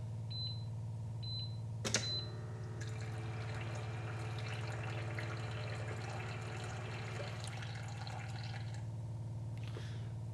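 Two short beeps and a sharp click come first, then tap water pours into a container of a Jimmy R9 water purifier for several seconds, a soft splashing trickle over a low hum.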